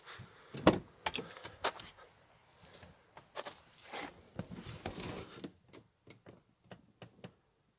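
Door of an Audi A4 B6/B7 being opened, a series of quiet clicks, latch clunks and small rattles spread out over several seconds, close and faint, with no talking.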